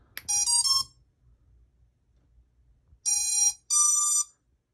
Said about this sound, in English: Once you hear those beeps, that means the flight controller is speaking to each one of the ESCs.